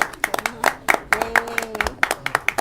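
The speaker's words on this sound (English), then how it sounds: "Here, a round of applause for Noreen, please." Clapping for a guest at a Christmas show, a sparse group of hands producing distinct individual claps in an uneven rhythm, fairly close, with a faint tone underneath.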